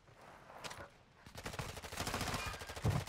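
Rapid gunfire in a video game strikes the player, with a short burst, a pause, then a denser volley of cracking shots, close and fairly loud, ending in a heavier thump.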